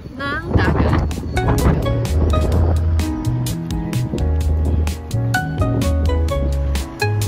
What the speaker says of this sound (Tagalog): Super hangin at super lamig dahil nandito tayo ngayon sa harap ng dagat.